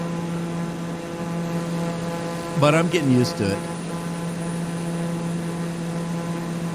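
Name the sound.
small plane engine heard in flight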